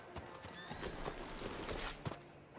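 Horse hooves in Red Dead Redemption 2 clip-clop in a loose walking rhythm near a frontier sheriff's office, a string of soft, fairly quiet clops with no voices heard.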